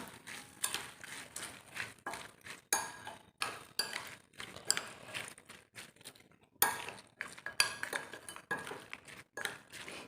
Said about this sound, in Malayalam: നമുക്ക് നല്ലപോലെ ഇതൊന്ന് മിക്സ് ചെയ്ത് കൊടുക്കാവേ.